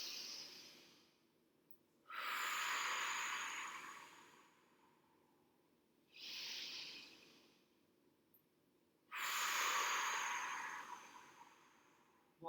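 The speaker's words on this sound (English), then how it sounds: "take a big deep breath in" Slow, deep breaths for a children's movement exercise, breathy inhales and exhales in long airy swells separated by quiet pauses, close and soft with no talk.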